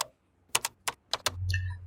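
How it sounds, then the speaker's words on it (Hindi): Rapid typewriter keys clatter in four or five quick bursts separated by short pauses, close and crisp, then give way to a steady low hum with a thin high tone at the end. "तभी इन्हें टाइपिंग की आवाज़ आनी शुरू हो गई, बहुत तेज़ तेज़, जैसे कि न जाने 10 टाइपराइटर एक साथ कोई दबा रहा हो"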